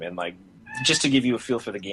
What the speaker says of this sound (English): Is that a cat? Yeah, that's a cat